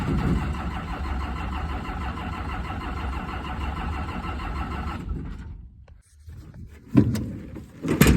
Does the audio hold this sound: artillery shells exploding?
no